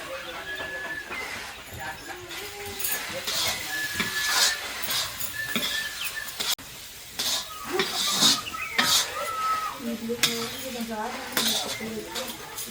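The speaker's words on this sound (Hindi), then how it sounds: "तो धीमी आंच में अब इसको हम अच्छे से मिक्स कर लेंगे" Carrot halwa with khoya is stirred and roasted in a pan over a traditional wood-fired stove: repeated scraping and metallic clinks of the spoon against the pan, with faint household sounds and occasional hen-like clucks in the background.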